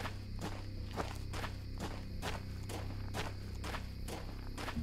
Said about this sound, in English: The moment I hear footsteps, I'm sprinting.